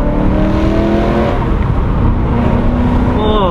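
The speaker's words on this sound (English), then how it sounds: "I'm going to attempt a downshift as I come through this bit." A decatted BMW M3 with a DCT gearbox, heard from inside as it downshifts, with a loud, steady engine drone whose pitch dips, then a rising rev-matched blip near the end.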